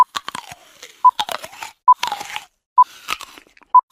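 Several sharp, crunchy bites into an apple, each crisp crack followed by brief chewing and tearing sounds, close and loud, with short beeps marking the gaps between bites.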